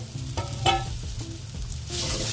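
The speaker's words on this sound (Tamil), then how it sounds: "கொஞ்ச நேரம் இந்த மாதிரி வதக்கி விடலாம்" Onions sautéing in a pan for a creamy mushroom curry, a low steady sizzle with a few utensil clinks and scrapes from stirring, close by and without talk.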